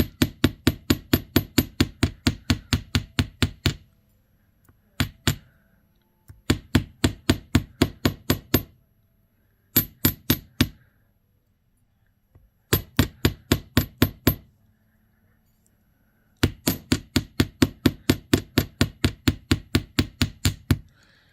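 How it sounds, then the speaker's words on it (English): A ball peen hammer textures metal wire for a teardrop necklace in a series of rapid, evenly spaced taps, delivered in five close, crisp bursts of about ten to fifteen strikes each with short pauses between. "Now I just use my ball peen side of mine to do my texturing."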